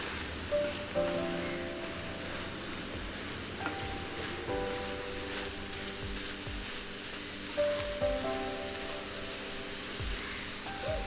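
Papaya avial with curry leaves simmers in a pan as its water cooks off, making a continuous soft bubbling hiss that holds steady under occasional stirring scrapes.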